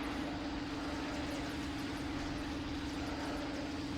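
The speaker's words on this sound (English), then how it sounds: "Man, I love the sound of tractor beam." A tractor beam power-up hums in LEGO Star Wars: The Complete Saga, a loud, constant droning tone with a steady pitched whine layered over a rumbling wash, unchanging throughout.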